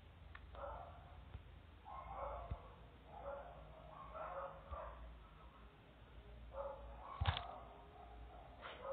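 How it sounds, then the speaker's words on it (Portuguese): Several dogs barking repeatedly out on a residential street, distant and muffled, in irregular bursts of yaps and barks with a louder cluster near the end, over a low background rumble. "tem uns cachorros que não param de latir."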